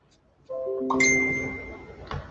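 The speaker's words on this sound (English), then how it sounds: "Apparently my phone is lighting up with all sorts of stuff." A phone chimes with message notifications, a bright ascending series of ding tones ringing close and clear, with a second shorter ding near the end.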